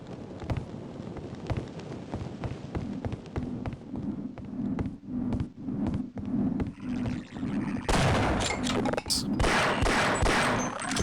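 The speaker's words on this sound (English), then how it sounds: "Little shotgun." Shotgun blasts from the video game Half-Life: Opposing Force, a series of sharp repeated shots over rumbling game ambience, turning into a dense roaring burst of fire near the end.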